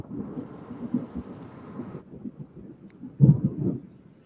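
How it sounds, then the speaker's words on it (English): Rainstorm heard from a rooftop during a live severe-weather broadcast, with steady rain hiss and low rumbling thunder that swells into a louder clap near the end. "the rain looks to be a little sideways, but not the winds"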